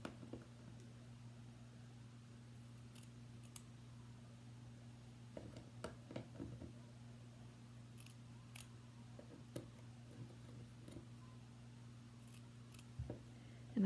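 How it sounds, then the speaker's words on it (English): Scissors snipping through the backing of a fur fabric, a series of quiet, irregular cuts over a steady low electrical hum. "peeling back the fur with my fingers and cutting the backing off as best I can"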